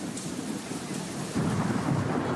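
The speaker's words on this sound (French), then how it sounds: "Un orage éclate, peu importe." A thunderstorm breaks out in Hong Kong, with heavy rain hissing steadily on surfaces and a deep roll of thunder swelling loudly about halfway through.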